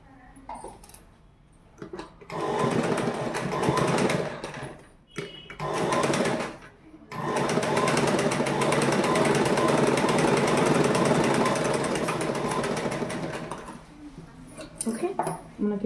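A sewing machine stitches a uniform nicker in loud, rapid mechanical bursts of several seconds, separated by short pauses with handling noises and occasional low speech.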